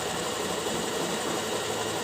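An electric motor on an NWOW ERV Mini e-bike spins the wheel forward during a rewiring repair, a steady, dense whirring drone with a fine rattling texture, close and unbroken.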